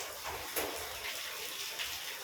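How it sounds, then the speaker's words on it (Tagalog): Water poured into a cooking pan, a soft continuous splashing trickle with faint fluctuations, quiet and close, with no voices. "kaya panayungin ko ng tubig."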